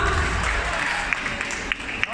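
Applause from spectators at a sport climbing competition final, a steady dense clatter of clapping under loud coaching shouts, with a few sharper bursts near the end.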